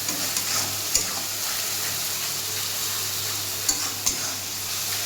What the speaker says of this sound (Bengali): মশলাটাকে সুন্দর করে এবার কষিয়ে নেব।